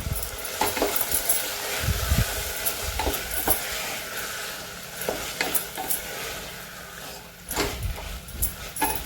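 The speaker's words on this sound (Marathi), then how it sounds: "ती गवारी थोडीशी आपण आता याच्यात परतून घेणार आहोत" Cluster beans (gavar) being sautéed in a pan, with a steady sizzle and repeated scraping stirs of a utensil against the pan throughout, fairly close, with no talking.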